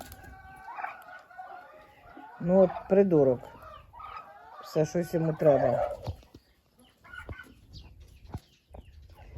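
A sick rooster clucks and calls in two loud, harsh bursts close by, with someone speaking briefly around the calls in a farmyard.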